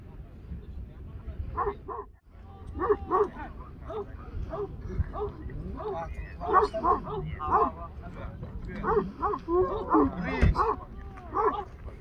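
A dog yips and whimpers repeatedly in short bursts, close by, over a constant background rumble.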